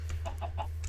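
Chickens in a farming video game give a few quick soft clucks over a steady low hum, close and moderately loud, with no talking.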